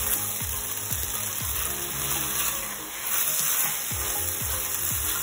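Ginger and garlic fry in a hot pan with a steady, close sizzle, and a spatula scrapes and clinks now and then while they cook for a chicken and broccoli dish.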